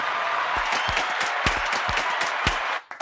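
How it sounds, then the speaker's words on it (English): An audience applauds after a song and its video is presented during a queer-themed talk show episode, with steady clapping from several people that cuts off abruptly near the end. "Can we have applause for that incredible video and song"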